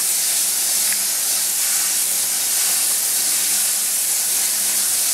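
Water runs steadily through a sieve full of rice being rinsed, a loud continuous hissing rush with no pauses, close and unbroken for the whole stretch.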